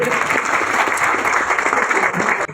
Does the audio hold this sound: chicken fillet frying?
no